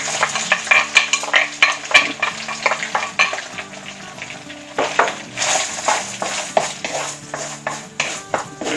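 Onion dropped into melted butter in a hot pan for a turkey meatloaf, sizzling loudly and steadily as a utensil scrapes and stirs in irregular strokes, with no talking.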